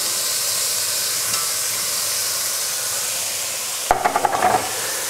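Garlic and thyme go into a hot pan for celeriac mash, bringing a steady sizzling hiss and then a short burst of stirring scrapes near the end, close and fairly loud.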